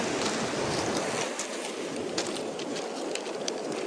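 Surf washes over a rocky beach in a constant, broad hiss of breaking water heard up close, with some wind buffeting the microphone and no pauses.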